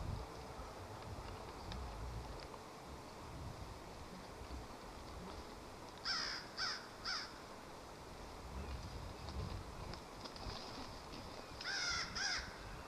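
A crow calls from up in the trees along a wooded trail, with a burst of three harsh caws midway and another pair later, set against a constant low outdoor rush of wind.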